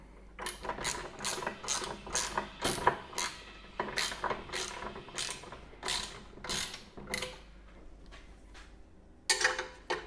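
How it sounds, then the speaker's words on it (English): Ratchet driving a 5mm Allen socket to tighten skid plate bolts on a Yamaha XT1200 Super Ténéré motorcycle, giving close, loud bursts of rapid clicking in repeated strokes with short pauses between them, no talking. "5mm Allen socket, and the ratchet, and tighten this, all 6 of them."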